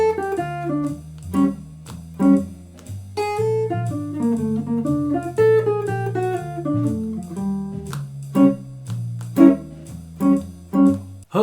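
A short jazz blues etude in bebop style, built on a major 7th shape: a solo instrument plays flowing single-note lines and brief chordal stabs with no talking.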